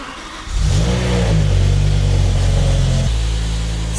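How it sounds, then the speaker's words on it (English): A BMW E60 M5 with its S85 V10 fires up from cold, a sharp start flaring into a loud, steady high idle that drops slightly after about three seconds, heard up close with no talking. "Right, first cold start of this whole series."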